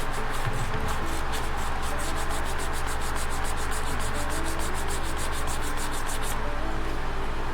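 Steady back-and-forth rubbing as putty is sanded on the plastic hull of a 1:350 Enterprise Refit model, a continuous close scratchy texture with repeated short strokes and no talk.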